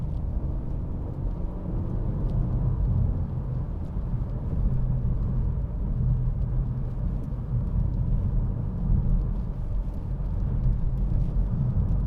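A 2009 BMW 318d SE four-door automatic accelerates along a road near Preston, heard from inside the cabin as a steady, deep engine and road rumble with no clear rise or break.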